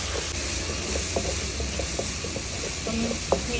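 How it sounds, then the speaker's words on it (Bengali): Ground spice paste for raw mango pickle fries over medium-low heat, a close, steady sizzle with light scraping and clicking from the stirring spoon, and no one talking. "মিডিয়াম লো হিটে পেস্ট করা আচারের সম্পূর্ণ মশলাগুলোকে একটু ভেজে নিচ্ছি।"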